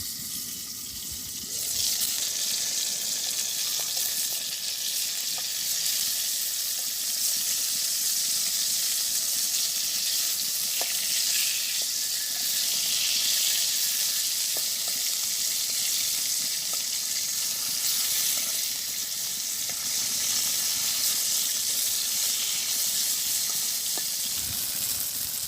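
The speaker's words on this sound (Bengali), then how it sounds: "সুন্দর করে ভাজা হয়েছে, আমি এখন নামাই নেবো বেগুনটা" Eggplant slices frying in oil in a pan, a steady dense sizzle and hiss that holds for the whole stretch at moderate loudness, with faint clinks now and then and no talk.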